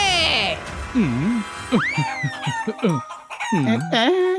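A cartoon rooster crows and clucks in a run of rising, wavering calls that sound partly voiced, as if a person is imitating the bird. The calls come close and loud, broken by short gaps.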